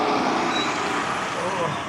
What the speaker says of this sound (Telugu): ట్రాఫిక్ సౌండ్ వస్తుంది వేరే రోడ్ల వల్ల.